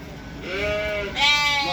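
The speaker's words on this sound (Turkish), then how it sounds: "Kuzular karışık. Koyun, kuzu, koç. Hepsi karışık." Two quavering sheep bleats, one after the other, close by with faint background rustle, at a small livestock market among mixed sheep, lambs and rams.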